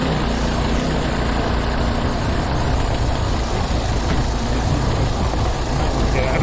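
A Manco Dingo go kart engine roars continuously at high revs during a fast lap, loud and dense throughout, with wind rush mixed in.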